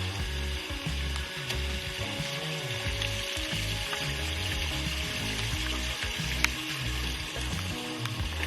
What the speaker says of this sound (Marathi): त्यावरून वाहणारे खळखळणार पाणी खूपच